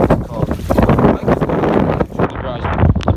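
Hurricane Irma's winds gust through Miami, roaring and buffeting the microphone in loud, uneven surges, with people talking over the blustery rush.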